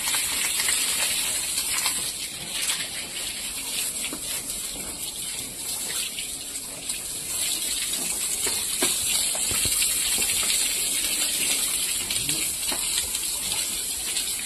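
Water gushes out with force in a steady, loud broadband rush that runs without a break from start to finish, with no voices over it.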